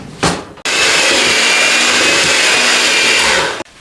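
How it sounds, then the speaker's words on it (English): An electric hand mixer beats cream cheese and brown sugar in a bowl: a short whir, a brief pause, then a loud steady motor drone for about three seconds that cuts off abruptly. "So I'm going to just use a bowl with the electric mixer."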